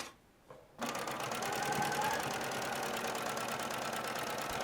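Sewing machine stitching a dart on a shirtwaister dress, starting after a short quiet pause and then running steadily with a fast, even mechanical rattle close by.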